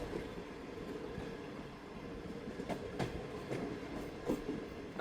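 The Bahauddin Zakariya Express, a passenger train running from Multan to Rohri, rolls along with a steady rumbling drone, faint wheel clicks and a few brief squeals; no voices are heard.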